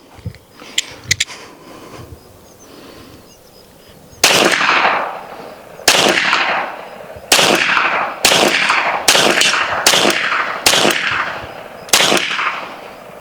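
BinTac T9 4500psi PCP air pistol emptying a full magazine, a string of about eight sharp, loud cracks spaced roughly one to one and a half seconds apart, preceded by a few quieter clicks and handling noises.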